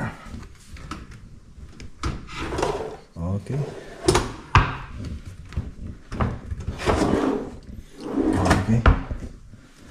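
Drawers in a cabinet are slid open and shut, making a series of wooden knocks and scraping slides, with someone talking over and between them.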